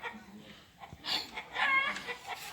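A chicken clucks and squawks in loud bursts close by, with several agitated calls crowding the second half amid background noise.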